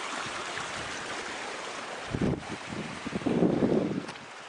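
Water flowing in a creek, a broad steady wash outdoors with wind buffeting the microphone and a couple of louder gurgling surges toward the end.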